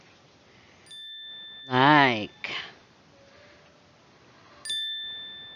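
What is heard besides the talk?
notification bell ding sound effect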